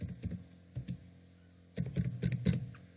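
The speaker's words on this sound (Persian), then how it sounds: "و در این قسمت پاسوردتان تایپ میکنین." Quick bursts of computer keyboard typing, a few keystrokes then a denser run of clicks, close and fairly quiet.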